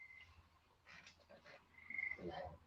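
A frog croaks faintly outdoors in a few short, rough pulses, with a thin insect-like chirp alongside. The sound sits low against a quiet background.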